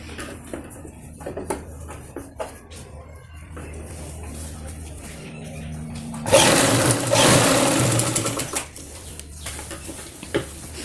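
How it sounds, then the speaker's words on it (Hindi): A sewing machine stitches pleats into a Patiala salwar, running in one loud, steady burst of a couple of seconds midway, with quieter handling and fabric sounds before and after. "पूरा सिलाई लगा लेते हैं हम पूरी प्लेट्स डाल के।"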